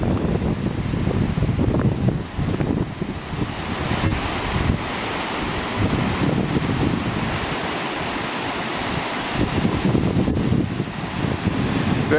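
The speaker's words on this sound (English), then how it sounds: "we've made it to the first waterfall, and that is Broken Falls. It's really pretty, kind of a cascading waterfall." Broken Falls, a cascading waterfall about 10 to 15 metres high in Victoria, Australia, rushes with a steady, dense roar heard nearby, mixed with gusts of wind buffeting the microphone.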